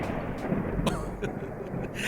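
Thunder rumbles with rain, a dense low roll under steady hiss, with a few sharper cracks standing out before the storm noise swells again near the end.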